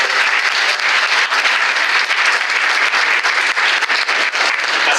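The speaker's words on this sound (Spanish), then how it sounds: "por favor un aplauso para..." Audience at a book presentation breaks into sustained, dense applause, loud and steady with slight fluctuations throughout.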